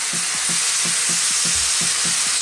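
Fresh tomatoes frying in a butter chicken masala base, a loud, dense sizzle with rhythmic scraping strokes of a spoon stirring through the pan.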